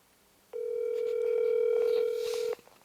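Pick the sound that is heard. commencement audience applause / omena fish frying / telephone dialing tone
telephone dialing tone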